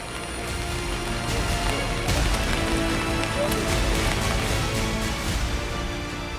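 Heavy monsoon rain pours down in Mangaluru amid flooding, a dense, continuous hiss of falling water with scattered splashes and drips, fairly close and steady throughout.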